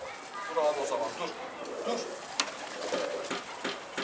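Pigeons in a freshly opened coop coo softly in low, rolling calls at close range, while people talk nearby and brief rustles and knocks break in.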